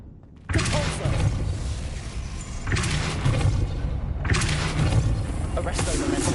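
Spell casting in the Hogwarts Legacy video game, a Depulso force spell: a loud sudden burst of sound, followed by further whooshing, booming surges that arrive in repeated waves and stay loud throughout.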